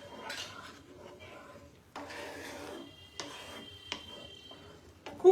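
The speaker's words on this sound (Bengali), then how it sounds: "এবার আঁচটাকে বাড়িয়ে ভালো করে এটা নাড়াচাড়া করব।" Paneer kofta curry stirred in a pan over high heat, heard as intermittent scraping and knocking of a utensil against the pan, with a few sharper clinks and quiet gaps between bursts.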